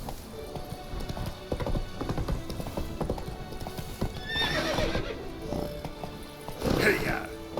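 Roach the horse in The Witcher 3: Blood and Wine, hooves clip-clopping in a steady rhythm with two short neighs, the second louder near the end, while a voice talks over part of it.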